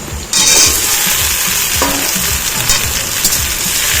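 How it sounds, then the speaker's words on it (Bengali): Chopped okra tossed into a hot pan and stir-fried, a loud sizzling burst as it lands, then a continuous close frying hiss with occasional spatula scrapes. "এবার একটু নাড়াচাড়া করে নিচ্ছি।"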